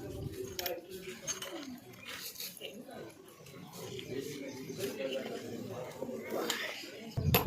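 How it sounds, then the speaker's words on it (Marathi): Two spoonfuls of sugar go into oil in a container for a school science experiment, with metal spoon clinks and scrapes against the vessel under steady classroom talk throughout. "या तेलामध्ये दोन चमचे साखर टाक बरं"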